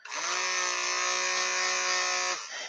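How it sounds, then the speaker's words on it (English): Handheld stick blender whirring through soap batter made with butters for a vegan soap dough, a steady electric hum with strong harmonics running about two seconds before cutting off, close and loud with no talking. "My stick blender. I'm gonna go ahead and mix this"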